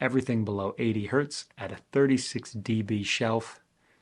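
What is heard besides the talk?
No everyday noise stands out behind the speech.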